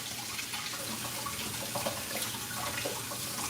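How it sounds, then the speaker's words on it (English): A pepper is washed under a running kitchen tap, a steady hiss and splash of water that stays continuous and fairly close throughout, with no talk. "So make sure I wash my pepper"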